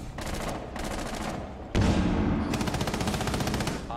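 Rapid automatic gunfire from a Rainbow Six Siege match, dense and loud bursts running nearly continuously, with a sharper, heavier volley kicking in midway.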